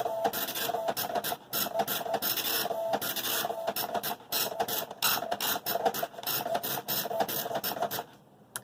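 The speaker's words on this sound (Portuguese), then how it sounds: "Está terminando a impressão." A PIC microcontroller-driven printer, likely a dot-matrix unit, prints on continuous form paper, giving loud, rapid buzzing print passes broken by brief pauses as the head shuttles back and forth, close up and with no talking.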